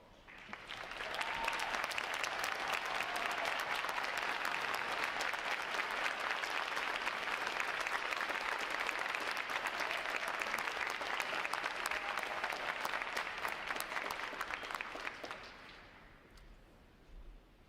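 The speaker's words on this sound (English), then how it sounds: "Would all of our veterans please stand and let's give them a round of applause." An audience at a U.S. Navy recruit graduation ceremony applauds veterans in a loud, sustained, dense round of clapping lasting about fifteen seconds before stopping abruptly and leaving quiet hall ambience.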